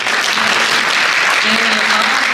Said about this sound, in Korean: 박수로서 함께 해주시는데요